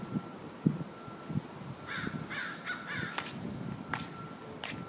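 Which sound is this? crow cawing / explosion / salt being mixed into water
crow cawing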